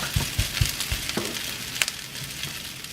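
Shrimp fried rice frying in a pan crackles and sizzles close up, with a few soft thumps as it is pressed down and sharper spatters scattered across the short stretch.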